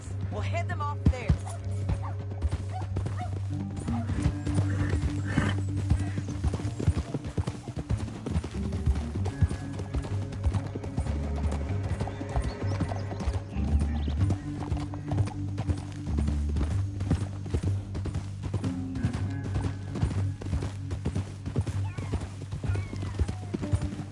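Horses' hooves clip-clop steadily in a PS4 western video game, rhythmic and close, layered with a low music bed, a brief whinny and dog barks, while characters talk over it.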